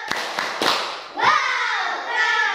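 A classroom of children doing the rhythmic "tepuk salut" clap routine, a few sharp claps followed by voices chanting along.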